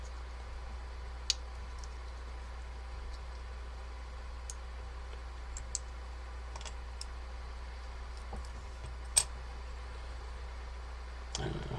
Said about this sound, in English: I can hear a little bit of clicking in that one